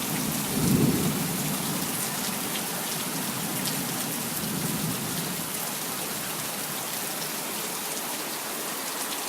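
Heavy rain pours down outside a country house porch in a dense, unbroken hiss, and a low thunder rumble rolls through near the start of a thunderstorm.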